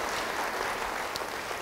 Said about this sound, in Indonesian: Yang setuju beri tepuk tangan bagi dia.